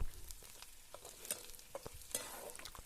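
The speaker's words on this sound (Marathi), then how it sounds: "लसूण कांदा कढीपत्ता याची फोडणी झाली आपली" Garlic, onion and curry leaves splutter in hot oil for a tempering, a soft close crackle with scattered sharp pops and a few stirring clicks.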